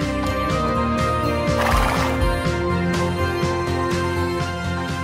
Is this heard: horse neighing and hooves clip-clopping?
yes